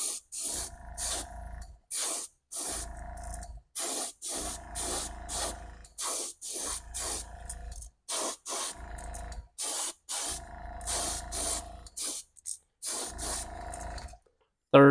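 Paint is sprayed onto a Table Rock Shad fishing lure in a third coat, heard as about eight close, loud bursts of airbrush hiss, each one to two seconds long, separated by short silent gaps.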